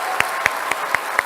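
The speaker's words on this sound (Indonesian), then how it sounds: "Sekali lagi kita kasih tepuk tangan untuk dua kandidat." Studio audience at a televised second-round Jakarta governor debate (2017) applauds the two candidates: a steady bed of clapping with a few sharper claps standing out at regular intervals, moderately loud, no talking.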